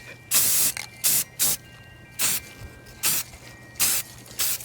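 An aerosol can of spray paint hisses onto a cup in short bursts, seven or eight sharp sprays of about a third of a second each with a clicking nozzle and quiet gaps between, close and loud.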